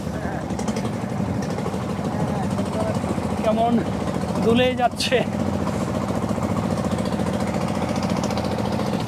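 A small trawler boat engine drones steadily on the Padma River at sunset, a constant mid-pitched hum under a person talking, with faint wave sounds.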